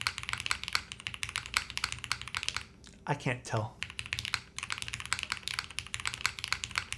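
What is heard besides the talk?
typing on Matrix MRTAXI mechanical keyboard without silicone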